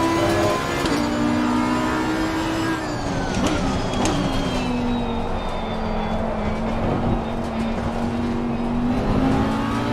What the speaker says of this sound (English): Faster car is approaching.